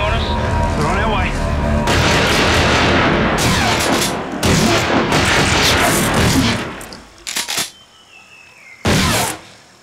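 Gunfire during a sea patrol drama, heavy booming shots and bursts layered over a rumbling background, loud and close, fading toward the end with a few separate bangs.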